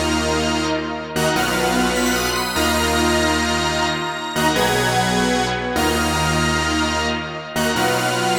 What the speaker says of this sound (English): Once again, this preset was made on Jupiter. We're using the bells and strings preset.